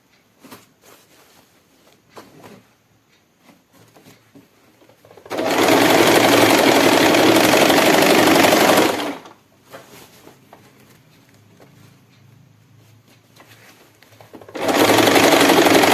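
A sewing machine stitches a sari and its fall in two steady, loud runs, the first lasting a few seconds and the second starting near the end, with quiet handling between them.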